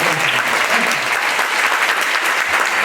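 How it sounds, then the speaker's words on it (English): Sustained applause from a large audience at a summer music camp recital, dense steady clapping throughout at a loud, even level with no pauses. "Give yourselves another round of applause"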